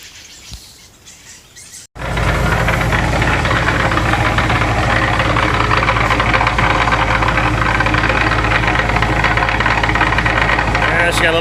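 A repaired pump's gearbox, freshly filled with oil, starts on a test run after a quiet moment with faint birdsong, then a loud steady mechanical drone with gear chatter and a knocking rattle running throughout.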